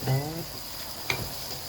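A constant sizzle of stir-frying ridge gourd with egg in a wok, Chinese rice wine drizzled along the pan's edge, with a short voice at the start and a single sharp metal clink partway through.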